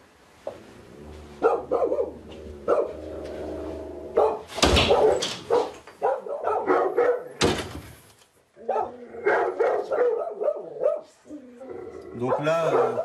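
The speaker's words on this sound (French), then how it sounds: "Ce couple sans enfant possède un dog argentin de 3 ans." A three-year-old, 42-kilo Dogo Argentino reacts behind a glass pane with loud, abrupt barks and bursts amid lively talk and movement, with repeated sharp outbursts standing out over the voices.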